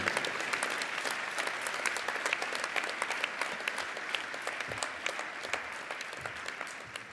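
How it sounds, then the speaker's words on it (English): An audience at a university event applauds steadily throughout, a dense sustained clatter of many hands clapping in a hall, fairly distant and even, with no speech over it. "Please give him a warm round of applause."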